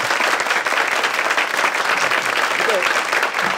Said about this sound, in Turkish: Bir alkış kardeşime.